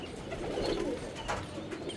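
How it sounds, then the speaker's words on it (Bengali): Domestic pigeons at a rooftop loft give low, throaty coos, a soft rolling call repeated close by with no voices over it. "আর ওই যে কবুতরগুলো উঠতেছে"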